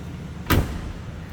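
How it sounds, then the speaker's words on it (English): A single solid thud as the door of a 1981 Buick Riviera is shut, close and brief, against a steady background hiss. "Door closes nicely."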